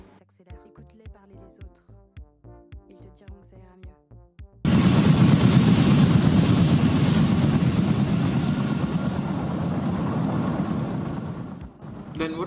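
Helicopter rotor and engine noise from a multiplayer first-person shooter game starts abruptly after a stretch of music, a loud steady drone that continues to the end.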